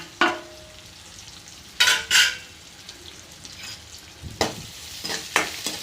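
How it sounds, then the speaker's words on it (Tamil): Potato bonda filling fries and is stirred in a pan on a low flame, giving a few distinct spoon scrapes and clatters against the pan over a faint, steady sizzle. "தீயை விட்டுடாதீங்க தீய விடாமல் கிண்டிக்கோங்க"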